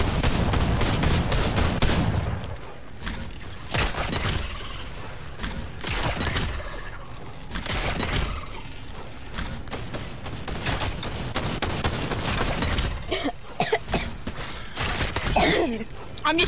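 Gunfire in the video game Fortnite: a heavy burst opens, then rapid repeated shots crack sharply over a steady background, with a voice heard faintly beneath.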